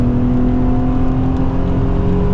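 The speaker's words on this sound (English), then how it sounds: "the downshifts are just stupendous" A Nissan 350Z engine revs through downshifts, a loud, steady droning whine with a strong engine note held close for the whole stretch, no voices.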